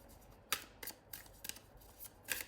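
Tarot cards being shuffled in short, crisp bursts, a handful of quick riffling snaps separated by brief pauses, close and fairly quiet.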